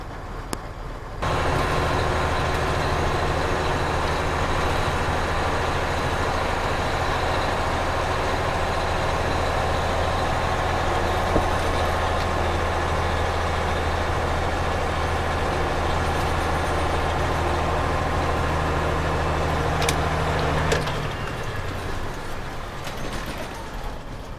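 A truck engine idles steadily at close range for about twenty seconds, a constant low droning rumble that starts abruptly and cuts off near the end, with no voices, on a cold gray December day.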